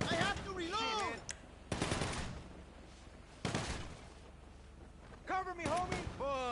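Gunfire during a shootout in the video game GTA V: a few loud, sharp bursts of shots break through, with excited shouting voices between them.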